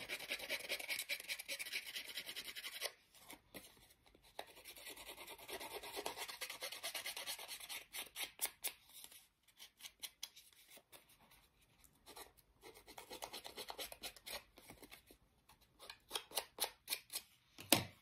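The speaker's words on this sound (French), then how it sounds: "le troisième, on abîme également de la même façon." Paper edges being distressed for an artist trading card, heard as close rasping scrapes and rubs, first as a continuous scratching stretch, then as quick irregular bursts of strokes with short pauses between them.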